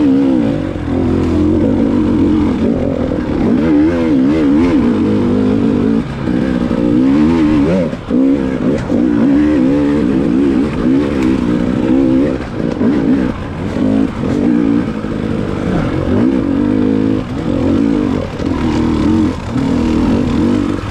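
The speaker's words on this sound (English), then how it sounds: "But here I get on the throttle a bit more." A dirt bike engine screams under throttle during a hare scramble, loud and continuous with repeated rises and brief dips as the rider rolls on and off, heard up close with no talking.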